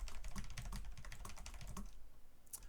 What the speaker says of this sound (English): I'm trying to talk at the same time as I type.